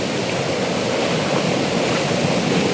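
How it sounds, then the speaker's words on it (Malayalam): A river flowing near a waterfall makes a dense, continuous rushing roar, steady and fairly loud with no breaks, heard alone without voices. "അത്യാവശ്യം നല്ല വെള്ളം വരുന്ന ആറാണ്"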